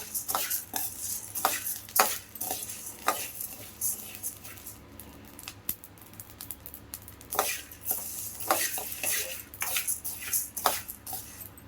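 Roasted spices for sambar powder stirred in a pan, with a spoon scraping and tapping the metal in uneven bursts over a faint sizzle, close and moderately loud.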